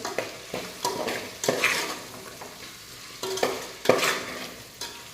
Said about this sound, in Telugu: సో సాల్ట్ అంతా మంచిగా మిక్స్ చేసుకోవాలి